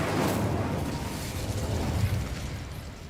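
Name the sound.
Incendio fire spell being cast in Hogwarts Legacy video game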